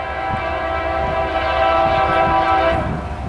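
A CSX freight train led by SD40-3 locomotives sounds its horn as it approaches a crossing, loud and close, with sustained horn tones over rumbling engines and rail noise.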